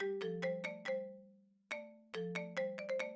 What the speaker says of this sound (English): This sounds like my ringtone.